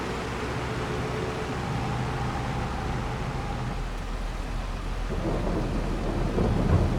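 Steady rain with rolling thunder in the farming video game Farming Simulator 2, a constant wash of noise with low rumbles that grow heavier toward the end, no voices.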